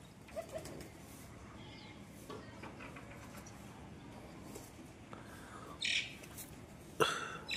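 Pet pigeons in a home loft softly cooing, low murmuring calls with a few sharper squawks and flutters, faint and close by in a quiet room.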